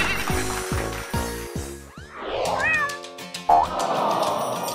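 A hairy cat meows a few times close by, short vocal calls mixed with thumps and clatter in the room.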